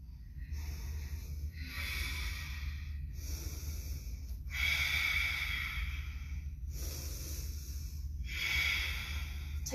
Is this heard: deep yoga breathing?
yes